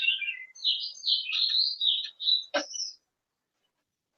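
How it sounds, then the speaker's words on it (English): Wild birds chirp and tweet outdoors in a lively, near-continuous run of high calls for about three seconds, ending with a sharp downward note and then quiet. "What do you got for birds there, Richard?"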